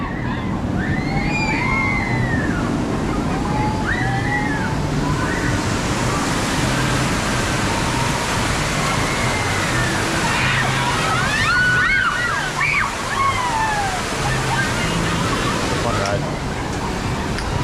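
A raft rushes through churning water on the Congo River Rapids ride at Busch Gardens Tampa, a continuous loud slosh and rush of splashing water with distant screams and whistles rising over it, while a person talks throughout.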